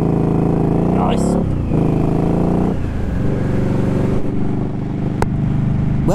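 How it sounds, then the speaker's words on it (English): Indian Scout Rogue motorcycle pulling away hard from traffic lights, a loud engine roar climbing through revs with gear changes, close and continuous. "Well, Red, if you wanted to make a lot of noise pulling away from those traffic lights, you sure did."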